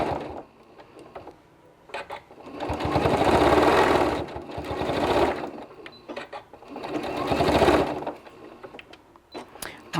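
Sewing machine stitching a fabric ice cream cozy from the bottom up, two sustained runs of whirring motor noise separated by quieter handling sounds.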